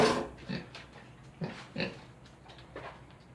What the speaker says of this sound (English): This pig is causing havoc in the workshop.